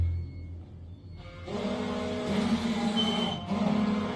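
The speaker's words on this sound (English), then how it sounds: "We got alarms going off." Alarms sounding in a computer system at a truck outpost: a low hum gives way to a loud, steady electronic tone with layered beeping, continuous and close with a brief dip near the end.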